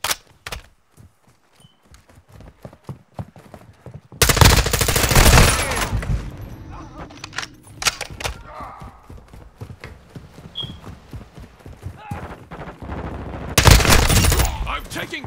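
Bursts of automatic gunfire in Call of Duty Modern Warfare 2, two loud volleys separated by quieter stretches with scattered sharp shots and game noise between them.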